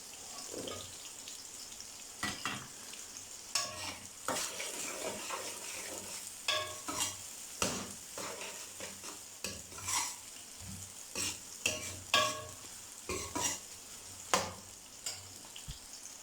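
Onions sizzle and fry in a pot with ginger and garlic while a spoon scrapes and stirs in repeated strokes, with clinks of metal against the pot.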